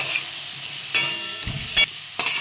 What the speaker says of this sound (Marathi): छानपैकी परतून घ्यायची छानपैकी भाजी.